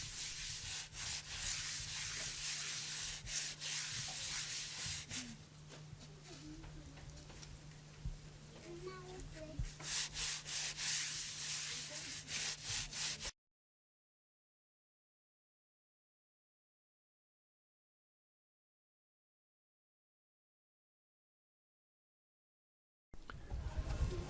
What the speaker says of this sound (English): smoothing the exterior of the jar with wet clay and burnishing it with a string of seeds from a baobab tree